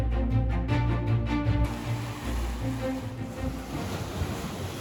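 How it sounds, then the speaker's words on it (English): Ocean waves roll and wash steadily along a shore, a continuous roar of surf mixed with gusty wind buffeting the microphone. "the sound of the waves"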